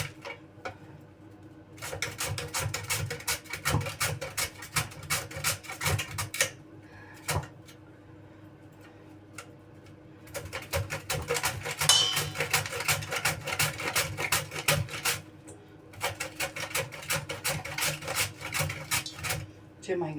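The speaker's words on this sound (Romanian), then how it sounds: "Mai bine doar pe răzătoare." Raw food is rubbed over a kitchen grater in repeated rasping strokes, steady scraping bursts with short pauses between them, close and fairly loud.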